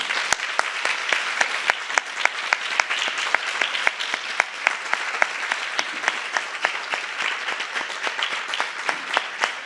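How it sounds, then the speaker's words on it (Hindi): An audience in a meditation hall claps steadily, a dense, even stream of hand claps with a few sharp individual claps standing out, continuous for nearly ten seconds. "तो ताली तो बजा दो।"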